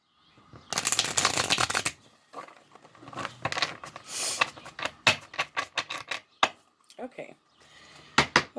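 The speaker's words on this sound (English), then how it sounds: "Okay, one more shuffle," Quick rustling riffle of tarot cards up close, then repeated taps and light clicks as the deck is squared and handled, with occasional quiet speech.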